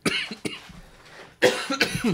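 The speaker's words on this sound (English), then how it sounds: "There's no water and I cannot stop coughing." A person coughs in short harsh bursts, a couple of coughs, a pause, then another cluster of coughs close up, at a Halloween Horror Nights theme park event.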